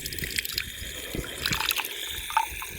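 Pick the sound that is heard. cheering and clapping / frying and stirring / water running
water running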